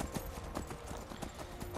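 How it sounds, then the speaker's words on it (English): A saddleless horse in the Skyrim video game clip-clops steadily, hooves falling in an even trotting rhythm over a dense game soundscape, close and continuous. "that nice horse with no saddle"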